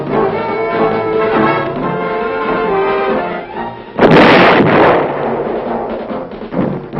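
An artillery gun fires at the Aberdeen proving ground: one heavy, sharp blast cuts through a loud continuous background of engine and mechanical noise, then a rumbling decay follows.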